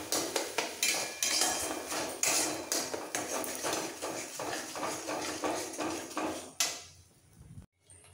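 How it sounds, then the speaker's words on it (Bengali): Kharkol leaf paste being stirred and fried in a pan, a spatula knocking and scraping against the metal in a quick repeated rhythm, close and fairly loud, with a final clank before it stops. "এবার খুব ভালো করে একটু কষাবো।"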